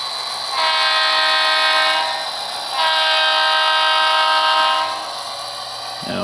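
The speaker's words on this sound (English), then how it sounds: "You get to see the beautiful locomotive running around the layout here." Model train locomotive running around a layout during maintenance-of-way operations, giving a steady rolling rumble with two long bright horn-like tonal blasts swelling and fading, alone without talk.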